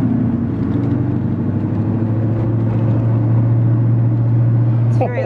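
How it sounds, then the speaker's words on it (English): Ford Mustang engine heard from inside the cabin, a loud steady low rumble and drone throughout, with a brief rattle at the end. "We're in the Mustang."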